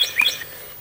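A chirping cat skull novelty toy gives a couple of quick, high electronic bird-like tweets, close and fairly loud, then falls quiet.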